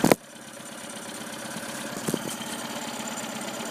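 A troubled engine that dies when throttled up quickly idles with a steady, low, rough hum after a brief loud knock at the start, a faint clunk midway, fairly close, and no talking.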